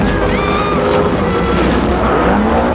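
A speedboat engine drones loud and steady through a chase across open water, with wind and spray noise over it and no pauses.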